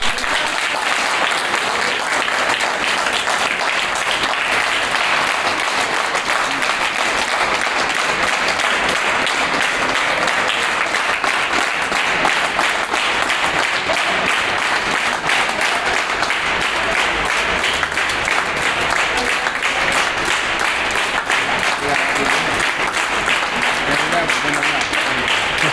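A crowd at a Gujarat NGO gathering applauds loudly and continuously for a long stretch. The dense, even clapping stays near and steady, with voices mixed in underneath.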